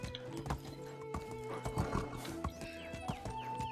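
Horses in the medieval game Medieval Dynasty: a steady clip-clop of hooves paced through the scene, with several whinnying neighs rising over the hoofbeats, fairly faint and game-mixed.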